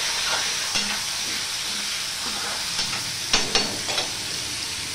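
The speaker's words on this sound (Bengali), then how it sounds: "আমি পেঁপে আর গাজরটা ভেজে নিয়েছি।" Papaya and carrot sizzle steadily in a hot pan while a utensil scrapes and stirs several times, with sharper clanks toward the end; no talking.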